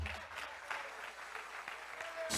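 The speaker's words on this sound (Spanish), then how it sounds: "Dale un fuerte aplauso." A church congregation breaks into loud, lively applause, a dense burst of clapping that swells near the end, heard faintly at a distance.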